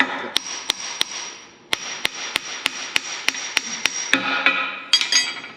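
A hammer taps steadily on a custom grade control roller, a regular series of sharp metallic strikes roughly every third of a second, loud and close over a continuous background whir, with no talking.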